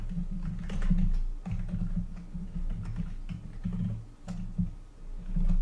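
Fingers type on a computer keyboard in a quiet room, producing a quick, irregular run of soft key clicks with brief pauses, close and alone without any voices.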